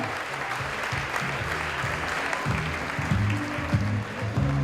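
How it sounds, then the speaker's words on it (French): An audience at a diploma award ceremony applauds, a continuous moderate clapping that stays fairly even throughout while a voice speaks over it. "on applaudit s'il vous plaît"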